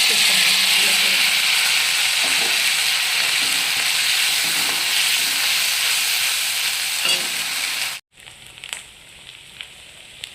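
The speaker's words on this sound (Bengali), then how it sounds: "তো আমার এখানে তেল গরম হয়ে গেছে এবার আমি এটা দিয়ে" Onion and poppy seed paste frying in hot oil gives a steady, loud sizzle for about eight seconds, then cuts out abruptly and gives way to a quieter, softer crackle.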